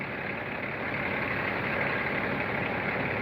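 A diesel engine idling steadily on an International dump truck, a loud, even low rumble that continues without change throughout.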